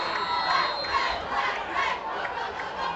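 Crowd at a high school varsity football game on homecoming night roars and cheers as a kickoff is set up, a sustained, broad wall of shouting voices from the stands.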